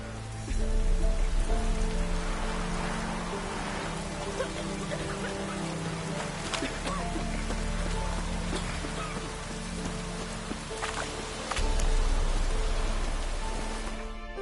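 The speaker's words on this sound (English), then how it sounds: "Looks like rain" Steady rain falls in The Witcher 3 video game, a dense continuous patter on surfaces with faint low rumbling beneath, holding even throughout.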